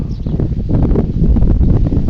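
Wind gusts rumble and buffet close to the microphone, a loud low blustery noise with faint rustling and a bird chirp early on.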